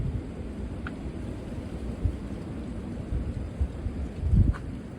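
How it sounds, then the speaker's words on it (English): Heavy, gusty winter wind blowing outdoors on a freezing day, a steady low roar with buffeting on the microphone that swells into stronger gusts near the end, with no voices. "it's really gusty out here"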